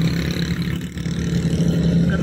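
A motorcycle cart (chhakda) on a road in Bahawalnagar, Punjab, Pakistan, with a loud, steady mid-pitched engine drone and light clatter as it goes past.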